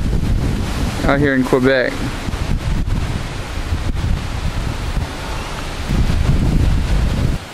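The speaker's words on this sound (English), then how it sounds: "It's kind of windy" Wind gusting over open farmland in rural Quebec, a steady low rumble of buffeting against the microphone that swells near the end, with someone talking over it early on.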